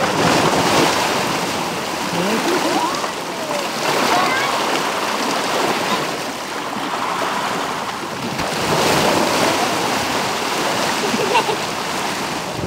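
Atlantic Ocean waves and surf roll in continuously during a yearly Ganga Nahaan ritual sea bath, a broad steady wash of breaking water with swelling and easing surges, close and fairly loud.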